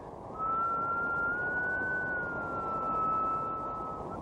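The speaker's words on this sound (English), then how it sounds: "if you compare that note to the sound, say, of the whistle of a train" One sustained whistle-like tone holds steady, rising slightly and then sinking back in pitch over a rushing background.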